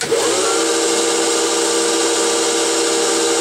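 3D printed bearing adapter spinning at about 1400 RPM on a lathe while being lightly sanded with 120 grit sandpaper, a steady loud whirring hum with a sanding hiss that holds constant after a brief start.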